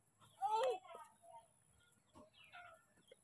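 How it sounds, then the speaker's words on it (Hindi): Chicken clucking in a rural outdoor setting, a short loud squawk followed by a few fainter clucks, close by, with a voice talking faintly around it. "मुर्गी पकड़ने जा रहे हो? कहाँ मुर्गी?"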